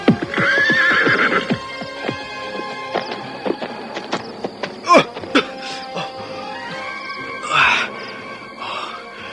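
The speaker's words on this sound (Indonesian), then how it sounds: "Panji terjatuh dari atas kudanya, tepat di depan Gapura Wisma" In a radio drama sound effect, a horse whinnies loudly near the start and again later while hooves clip-clop in a steady run of sharp knocks, with a few brief vocal sounds between.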